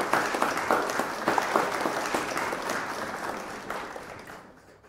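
Audience applause following an exercise session demonstration, steady clapping from a group that fades out over a few seconds, with no talk over it.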